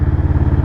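An SM Sport SM3 cruiser motorcycle with fuel injection starts up, its engine settling into a loud, steady, close rumble at a raised idle with a regular pulsing beat.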